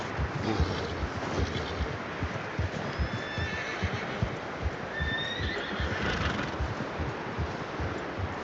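A horse in the Red Dead Redemption 2 video game whinnies twice over a constant bed of hoof clops and wind noise, moderately close.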